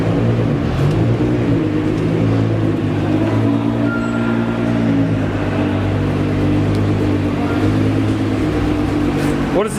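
Several Nissan GT-R cars roll past at a car meet, a steady low engine rumble with harmonic drone holding throughout, close and loud, with no clear revving bursts.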